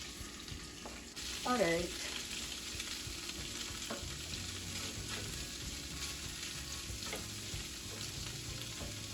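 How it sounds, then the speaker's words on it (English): Tofu frying in heated oil in a pan, a steady broadband sizzle and crackle running throughout with a brief louder burst early on, and a short spoken remark partway through. "to heat my oil now. Oh, it is warming up for my tofu to go in there"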